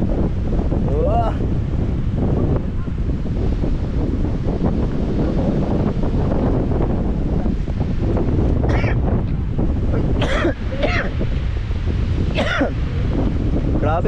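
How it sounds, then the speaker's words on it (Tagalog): Strong wind buffeting the microphone outdoors at a scenic spot, a constant loud roaring rumble with faint voices and a few sharp clicks breaking through. "Grabe ang lakas ng hangin dito."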